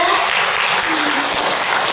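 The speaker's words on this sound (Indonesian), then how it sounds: "Boleh dong tepuk tangannya." Audience applause at a talk event in a hall, a loud, steady wash of clapping from a crowd that fills the whole stretch with no voices over it.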